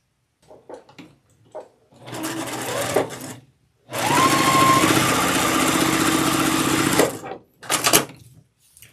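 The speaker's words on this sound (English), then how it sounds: "I'm going to sew it together with 1/4 inch seam." A sewing machine stitches a quarter-inch seam joining quilt blocks: a short burst of rapid mechanical chatter, then a longer steady run of about three seconds, then another brief burst, all close and loud with light handling noises between; no voices.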